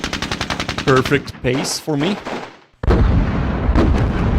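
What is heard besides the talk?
explosions and gunfire in video game Squad Battles Eagles Strike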